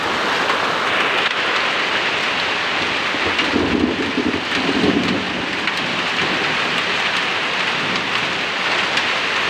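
A heavy hailstorm with thunder, large hailstones pelting down outdoors in a dense, loud, continuous roar, with a low rumble of thunder rolling through the middle.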